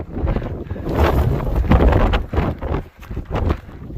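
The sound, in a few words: wind on mountain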